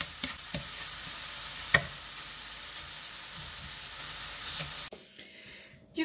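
Apples and sugar stirred in a frying pan over medium heat, with a steady soft sizzle and occasional utensil scrapes and taps, up close; a brief quieter pause near the end.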